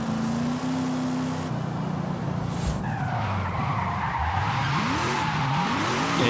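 A car in Forza Horizon 5 drifts through a bend, its engine droning steadily before the tires break into a long squeal with rising and falling pitch, loud and close throughout.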